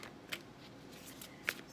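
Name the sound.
shuffling tarot cards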